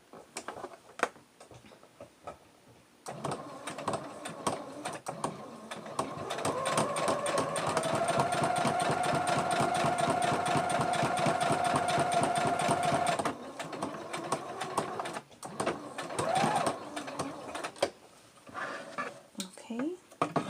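A sewing machine stitches seams on a homemade Olson face mask: a close, rapid mechanical whirring that starts, runs steadily for several seconds and then stops, framed by fainter clicking and handling noise.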